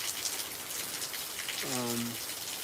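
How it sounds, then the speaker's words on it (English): Steady rain falls close by on a front porch during a light spell of a storm, a continuous patter throughout; a brief voice intrudes near the end. "You can hear the rain falling"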